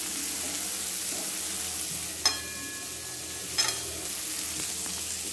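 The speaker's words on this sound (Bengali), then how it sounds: "কুমড়ো আর উচ্ছে এই দুটো ভাজতে শুরু করলাম" Pumpkin and bitter gourd frying in a pan, a steady close sizzle with two brief clinks of a utensil against the pan.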